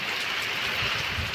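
Steady rain pours down over a village, a continuous close hiss of drops filling the whole short stretch with no voices.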